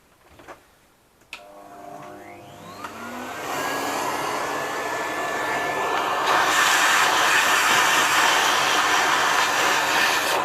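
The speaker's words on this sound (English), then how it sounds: "it's going to give it a bit of a vacuum" A vacuum nozzle pulls debris from around a stuck diesel injector on a 1.3 JTDm Alfa engine, starting with a few clicks and then roaring into a loud, steady, rising suction hiss that continues to the end.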